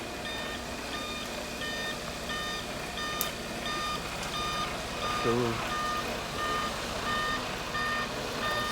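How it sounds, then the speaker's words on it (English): A concrete mixer truck arriving at a garden retaining-wall job gives off a steady run of evenly spaced, loud reversing beeps over a rumbling engine and site noise, with a brief word spoken partway through. "our concrete truck has arrived, so we can start to pour concrete"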